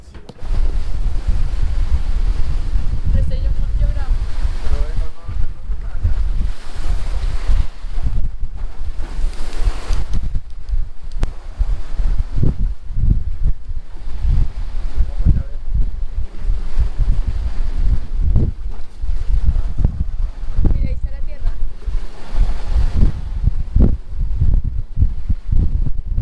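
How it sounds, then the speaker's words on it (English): Huge waves and howling wind batter a sailboat during a hurricane, a constant loud roar with heavy low rumbling and crashing surges throughout, no voices heard. "Oh my god, baby, the waves? They're huge."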